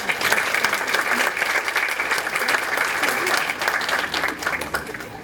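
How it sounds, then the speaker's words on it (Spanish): Strong, sustained applause from a conference audience, many hands clapping together in a dense, even roar that carries on for several seconds before easing slightly at the end. "pido un fuerte aplauso"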